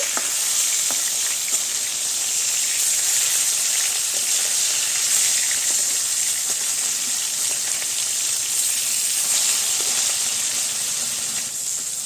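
Vetki fish fry in hot oil in a home kitchen, giving a steady, loud, continuous sizzle with no talking.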